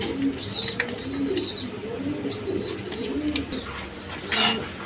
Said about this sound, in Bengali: এখানে এক পেয়ার কবুতর আছে দেখেন জার্মান বিউটি ক্রিমবার কালার